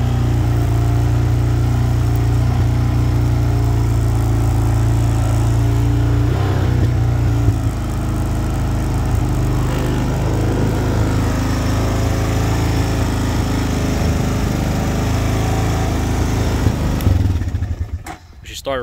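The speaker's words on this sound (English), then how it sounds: "she started right up. The idle is a little high." Honda Recon TRX 250 ATV engine idling steadily and slightly high just after a cold start, a close continuous putter that cuts off near the end, with someone talking over it.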